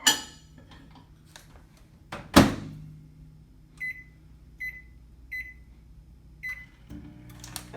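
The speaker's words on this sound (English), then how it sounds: "we're going to pop it in the microwave for another 20 seconds" A microwave oven reheating a potato hums steadily, with a loud clunk of the door early on, then a series of short electronic beeps spaced a second or so apart near the end.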